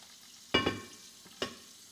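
Washed beans tumble into a large pot in two close bursts of rattling impact, followed by a shorter, softer clatter a moment later; fairly near and clear with no talking.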